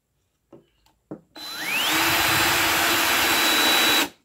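A power drill spins up with a rising whine and then bores steadily and loudly into wood for a few seconds, after a couple of brief clicks.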